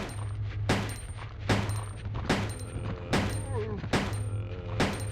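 Handgun shots fired at zombies in Resident Evil 2 (1998), about six or seven sharp, loud reports at a steady pace, roughly one every eight tenths of a second, over a low droning hum.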